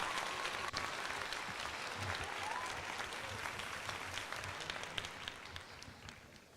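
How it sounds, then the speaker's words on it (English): A baseball crowd in the stands applauds a nice catch in the top of the ninth at a Phillies versus Diamondbacks game, a broad, steady roar of distant clapping that slowly tapers off. "What a nice catch, and he gets a round of applause"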